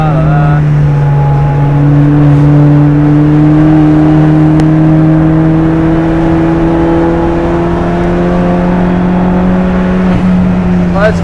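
A Peugeot 306 GTI with a swapped 2.0 TFSI engine drives loud and close on the Nürburgring, its engine note holding a steady drone and slowly rising in pitch as it pulls through the gear.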